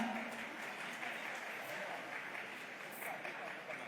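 An audience at a Karnataka government Yuva Nidhi scheme launch gives dense, steady applause to welcome Sharan Prakash Patil, a broad crowd clapping that fills the hall with some talk mixed in.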